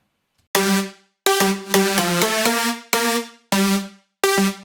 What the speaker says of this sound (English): And the whole lead sounds like this by itself.